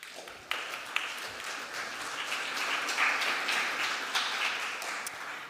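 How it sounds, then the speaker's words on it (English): Sustained audience applause at a high-level UN conference pledging session, a dense wash of many hands clapping steadily across the room with a few sharper claps standing out, swelling slightly midway and holding to the end. "I understand it's always a bit weird to clap for a video"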